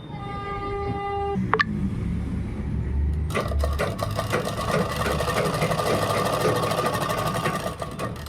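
A sewing machine stitches a kurta made from a dupatta, a close, steady mechanical whirr of rapid stitching that runs after a brief tonal beep and click at the start.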